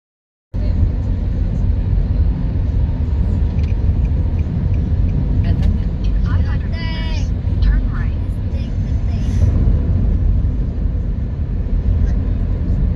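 Steady broadband road roar of cars driving along a dark toll road at night, continuous and fairly loud from inside a moving vehicle, with brief voices talking partway through.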